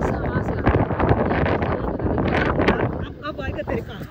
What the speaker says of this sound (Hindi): ये देखें इस तरह होता है पाकिस्तान में जब तेज हवाएं आती हैं